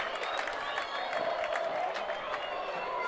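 A home crowd at a high school rugby match cheers a try, a steady wash of distant roaring and applause beneath a commentator's talk.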